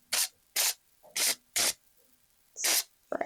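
Cooking spray hisses onto mini loaf pans for banana bread in five short, close bursts with brief pauses between them, followed by a faint clatter at the end.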